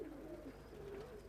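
Pigeons coo softly in a low, rolling call, faint and somewhat distant against steady background noise.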